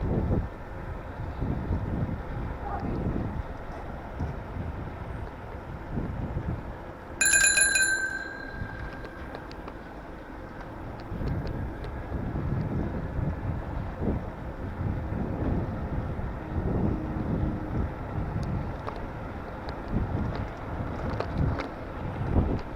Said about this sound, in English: Kind of windy going back.